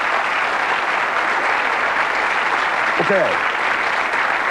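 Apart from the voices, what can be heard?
audience applause on TV game show Bullseye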